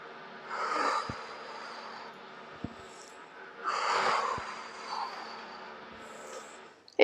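Two long, audible exhaled breaths come through the nose and mouth during a home shoulder-circle stretching exercise, a few seconds apart over a quiet background, with faint taps between them.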